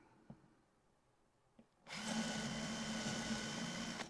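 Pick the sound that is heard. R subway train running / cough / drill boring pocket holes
drill boring pocket holes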